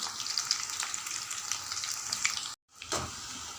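Soya chunks (meal maker) frying in hot oil, a steady crackling sizzle held close and even, broken by a brief dropout near the end before the bubbling resumes.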